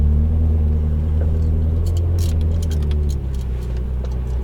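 A Ferrari 458 Italia sports car runs on a Las Vegas track, its engine a loud, steady low rumble heard from inside, easing slightly in level partway through.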